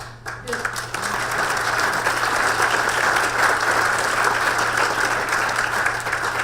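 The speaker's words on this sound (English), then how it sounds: "I think it's amazing that you guys are applauding" A live audience applauds after a speech, producing a dense, steady wash of clapping that stays loud and close for several seconds with no talk over it.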